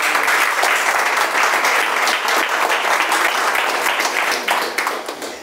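A church congregation applauds during a morning service, a loud, sustained burst of many hands clapping that holds steady and then tapers off near the end.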